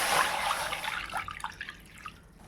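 Water poured from a cup into a kadai on a gas stove while preparing millet mango kesari, a broad splashing pour at the start that thins into scattered drips and trickles.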